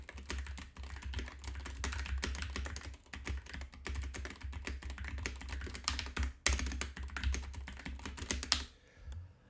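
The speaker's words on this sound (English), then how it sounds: "And if I was typing with my microphone right over here just sitting on the desk." Typing on a computer keyboard on a desk, picked up by a microphone sitting on the same desk: rapid, continuous clicking keystrokes close and clear, with a brief pause near the end.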